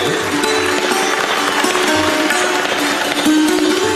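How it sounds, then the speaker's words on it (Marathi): At an on-stage felicitation for BJP candidate Pankaja Munde's victory, with Agriculture Minister Dhananjay Munde present, a large crowd claps loudly and without a break, with a noisy murmur of voices mixed in. "एकदा जोरदार टाळ्या होऊन जाऊ द्या"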